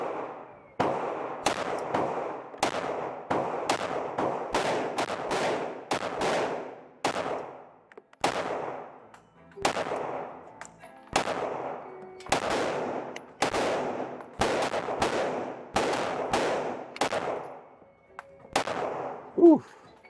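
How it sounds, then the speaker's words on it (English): A new Glock pistol fires fifteen shots at a 20-yard target at a steady, unhurried pace, each crack sharp and loud with a short decay, the shots clustered tightly in a few places and with no talking. "Gonna do 15 shots at 20 yards."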